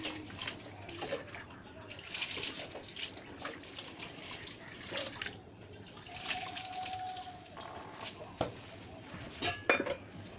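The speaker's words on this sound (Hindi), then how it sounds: "यहाँ पर मैं बना रही हूँ राइस और इसको धो लूँगी" Rice being washed with water in a metal pot in a home kitchen, soft sloshing and splashing with clinks of the pot and utensils, fairly quiet and intermittent.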